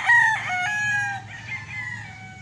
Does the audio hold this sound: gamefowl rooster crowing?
yes